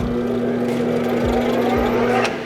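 A wood lathe spins a cane blank in a workshop, a steady motor hum with a constant low drone, a couple of soft thumps partway through and a brief scraping swell near the end.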